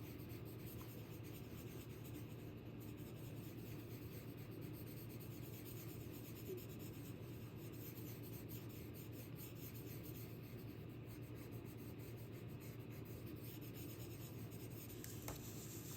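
Soft, steady rubbing of graphite being blended across paper in small circular strokes, a faint continuous scratchy hiss close up with no voices.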